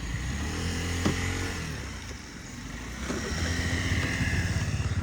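A Honda Tact AF75 four-stroke fuel-injected scooter engine runs steadily and fairly quietly, a low continuous hum with a brief rise in revs near the end and no talking over it.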